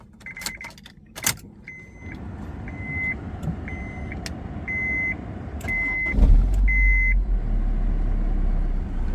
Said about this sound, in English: So let's turn the engine on